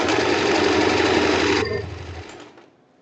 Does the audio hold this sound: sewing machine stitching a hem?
yes